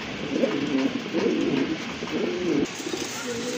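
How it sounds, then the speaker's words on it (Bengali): Large pigeons in a market pen coo softly in low, repeated rounded bursts, a few overlapping calls close by against a noisy background. "মাশাল্লাহ দেখেন কত বড় সাইজের কবুতর"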